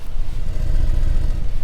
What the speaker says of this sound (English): Nice burble of that V8.